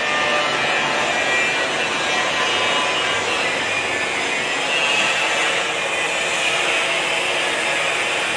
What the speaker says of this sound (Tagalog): Dito po yan sa Santes Engineering Machine Shop.